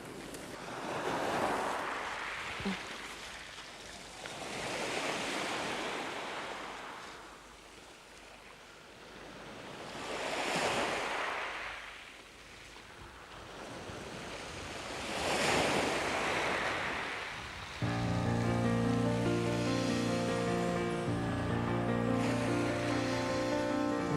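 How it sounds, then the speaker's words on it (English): Waves crashing and washing over a pebble shore, surging in slow repeated swells roughly every five seconds, each rising and falling away, with wind on the microphone and a melody entering near the end. "White waves are splashing on the shore, they're crashing, washing over pebbles"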